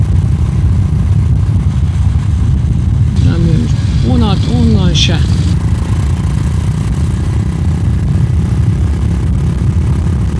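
A small Kawasaki Meguro S1 W230 233cc motorcycle engine labours uphill with a steady, close, rough low thrum throughout, while someone talks briefly over it midway.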